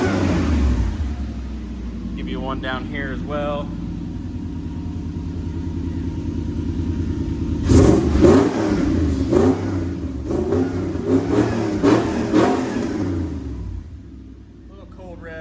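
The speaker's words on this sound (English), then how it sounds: "Little cold revs." A Toyota race truck engine revs while still cold in a workshop, a low steady idle building into several rough throttle blips and a rumbling roar up close, with someone briefly speaking before the revs.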